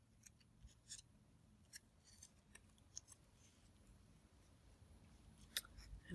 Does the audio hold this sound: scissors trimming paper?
yes